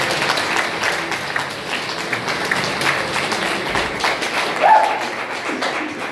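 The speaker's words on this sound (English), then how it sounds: "start that applause from the back of the room" Comedy club crowd applauding a comedian onto the stage, a steady wash of clapping from the room that holds fairly even throughout, with a slight swell near the end.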